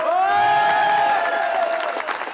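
Applause from a festival audience at the Festival de Montereau, a dense, steady wash of clapping and crowd noise that stays loud across the whole stretch with a faint cheer mixed in.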